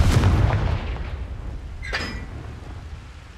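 A Confringo fire spell blasts in the video game Hogwarts Legacy, one heavy close boom opening the moment and decaying into a rumble, followed by a shorter crackling impact with a bright metallic ring.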